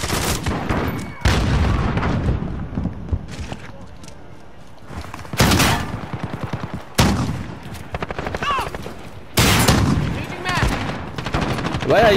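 Gunfire in a first-person shooter video game rings out in several loud, sharp volleys and rapid automatic bursts, separated by quieter gaps; a voice talks between the shots.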